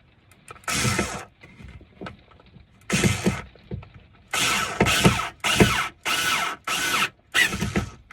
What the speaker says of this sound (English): These screwdrivers are invaluable. Little tiny USB charging.